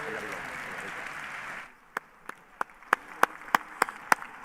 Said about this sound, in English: David Schwartz gets a round of applause